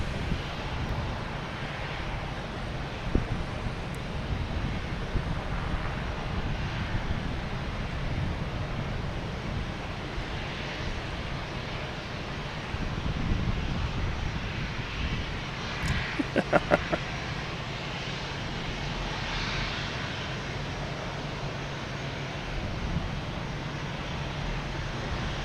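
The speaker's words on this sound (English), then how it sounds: "we got Spirit Airlines coming in from Orlando" A Spirit Airlines Airbus A321neo arriving from Orlando into Boston Logan gives a distant, steady jet rumble over wind noise, with a few brief clicks and knocks near the mic partway through.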